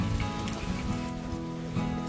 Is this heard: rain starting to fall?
yes